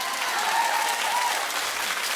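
A television talk-show studio audience in Detroit claps steadily, a dense even wash of applause at moderate level with no break.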